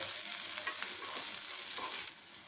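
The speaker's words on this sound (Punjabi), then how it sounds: "ਪਿਆਜ਼ ਨੂੰ ਮੈਂ 1 ਤੋਂ 2 ਮਿੰਟ ਲਈ ਭੁੰਨ ਲਿਆ ਏ" Chopped onions fry in a pan for masala dosa filling, a dense close sizzle with a few scraping stirs, dropping quieter near the end.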